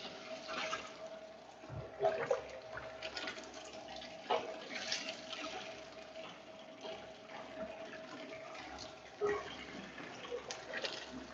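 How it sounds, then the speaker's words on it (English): Ramen stock pouring and draining through a soup filter machine during a Jiro-style ramen demonstration, a steady watery rush with a few splashes and clunks, fairly close and continuous. "the stock is drained out very quickly, smoothly, and less work"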